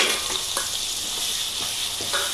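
Ground masala paste roasting in a pan, for a Maharashtra-style chicken dish, crackles in a continuous close sizzle, with a utensil scraping and stirring now and then and no voices.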